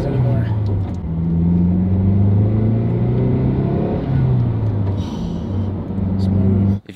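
A Mazdaspeed3 driving with a newly installed ACT clutch, steady engine drone rising and falling through the gears, loud and close throughout.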